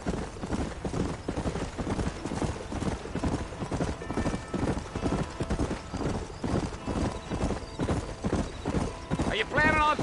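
Galloping horse hooves in the Red Dead Redemption video game, a loud steady clip-clop rhythm throughout with a horse whinny near the end, under occasional character talk.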